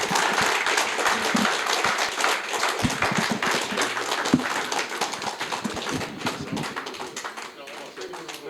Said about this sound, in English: can we rise up and give a big round of applause again?